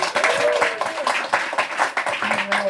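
Audience applause for the guests at a live comics talk event, a crowd clapping steadily in dense bursts with a few voices mixed in.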